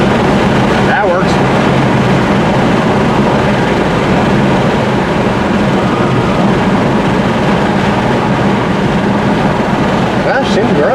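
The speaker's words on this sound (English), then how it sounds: "Sorry for the wind noise." Wind roars steadily through the open windows of a 2011 Audi A4 B8 while driving, a loud continuous rush mixed with road and engine drone throughout.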